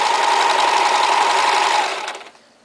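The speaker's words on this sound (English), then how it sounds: "I'm going to stitch all the way around." A sewing machine stitching around the edge of a fabric baby bib: a steady, close, continuous mechanical whir that runs evenly and then winds down and stops near the end.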